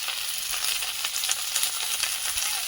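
Ground cumin, coriander and chilli powder with ginger-garlic paste sizzle briskly in hot oil for a Bengali pea curry, close and continuous, with occasional scraping stirs and no talking.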